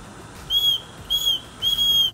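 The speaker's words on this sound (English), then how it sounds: "the whistle does work just fine when we tested it" A rescue whistle from a cheap Amazon survival kit is blown in three shrill blasts, each about a quarter to half a second long, spaced evenly and loud against a quiet background.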